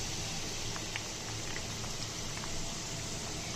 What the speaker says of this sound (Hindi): आगे पीछे करें, ताकि ये अच्छी तरह से हर तरफ से फ्राई हो और बहुत क्रिस्पी बने